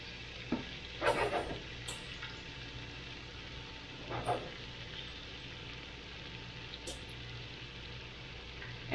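Onions frying and cooking down in a pan, with a faint steady sizzle and a few scattered louder crackles and stirring clatters.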